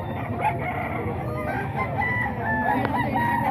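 A rooster crows amid a farmyard of clucking chickens, with a 10-month-old gamecock nearby; the crowing and fowl calls run continuously over a busy background.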